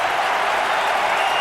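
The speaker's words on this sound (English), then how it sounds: "Crowd pumps up the volume" Roaring NFL stadium crowd at a 2009 Chicago Bears vs. Atlanta Falcons game, a loud, dense and steady wash of cheering and noise with no gaps.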